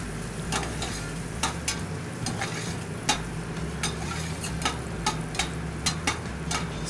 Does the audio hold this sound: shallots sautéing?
yes